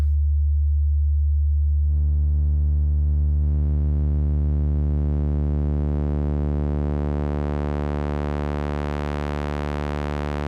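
A loud, steady low synth bass tone begins pure and smooth, then gradually grows brighter and buzzier as added overtones build in.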